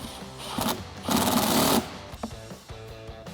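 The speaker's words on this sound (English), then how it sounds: "we can take an 8mm socket and tighten that up, tighten up the clamp" Ratchet driving an 8mm socket to tighten the intake clamp on a Jeep Wrangler JL 2.0L S&B cold air intake, heard as two close bursts of rapid clicking, the second longer, with quieter handling noises around them.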